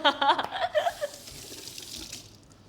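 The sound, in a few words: washing hands under running tap water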